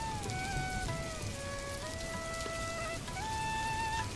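Steady rainfall on a rainy day, an even, close wash of patter that never lets up, with a soft sustained tonal melody drifting over it.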